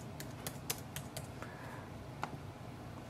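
Typing on a MacBook keyboard: quiet, close key taps in an irregular burst, with a few sharper clicks, then sparser presses.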